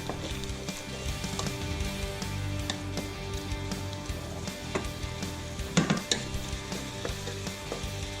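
Red wine cooking into beef ragu in a hot pan, a steady close sizzle with scattered pops and occasional utensil clinks, no voices over it.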